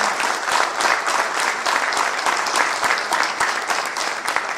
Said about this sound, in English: I think they deserve another big round of applause.